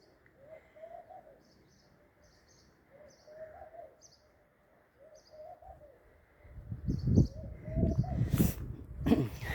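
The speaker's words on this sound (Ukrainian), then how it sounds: "чуєте, як горлиця?" Soft, repeated cooing of a turtle dove in the distance over quiet outdoor ambience, with faint chirps, followed by louder nearby rustling and knocking.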